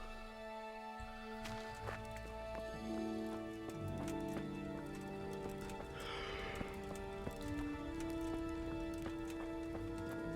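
Horse hooves clip-clopping in the medieval video game Kingdom Come: Deliverance, a steady trot with occasional neighs, heard under sustained background music at moderate level.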